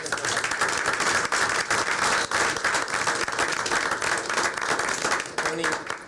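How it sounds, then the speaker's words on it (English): An audience at a 1997 North Penn school board meeting gives a sustained round of applause, dense and steady clapping filling the room for about six seconds before easing slightly at the end. "Round of applause for Ken Weir, please"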